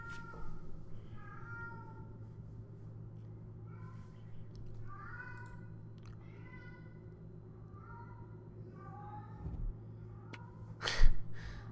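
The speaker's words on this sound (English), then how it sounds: "I don't know if you can hear my cat in the background," A pet cat meows loudly and repeatedly in the background, a series of drawn-out calls under a steady low hum, ending with a louder burst.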